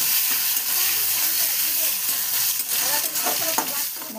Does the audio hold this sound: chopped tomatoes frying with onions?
yes